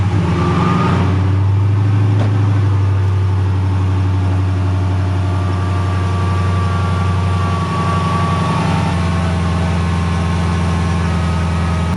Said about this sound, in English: Now it's time for a proper cold start with the exhaust valves open so we can finally hear what this V8